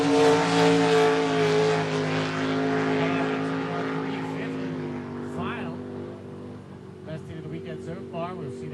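Racing boats running a course during heat races, a loud sustained engine drone with steady tonal harmonics, close and continuous, with a voice talking over the engines.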